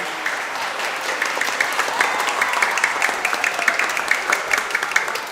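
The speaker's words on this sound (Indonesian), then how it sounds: "kita beri tepuk tangan untuk anak-anak kita" Sustained applause from an audience at a school feast-day Eucharist celebration, given for children who performed; dense steady clapping lasts throughout, fairly loud with crackling individual claps.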